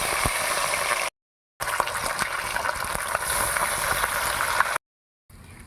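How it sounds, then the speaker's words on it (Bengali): Katla fish pieces dropped into hot oil in a wok, giving a steady loud bubbling sizzle with crackling pops that runs continuously, broken by brief silent gaps. "তেল গরম হয়ে গেছে, এবার তেলের উপরে মাছ ছেড়ে দেব।"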